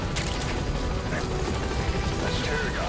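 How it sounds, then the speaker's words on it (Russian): A helicopter in the video game Metal Gear Solid V: The Phantom Pain thumps with a steady, loud rotor drone and rhythmic blade chop, continuous throughout with faint game noise behind it. "Вертолет удрал."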